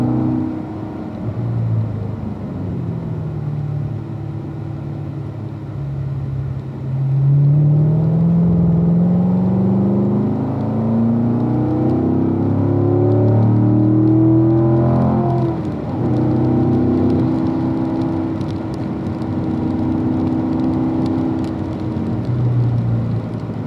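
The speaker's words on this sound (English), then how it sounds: "Accelerate up towards our turning cone once more." A race car on a wet track accelerating toward a turning cone, its engine note rising steadily in pitch as it builds speed, heard from inside or close by, with no talk.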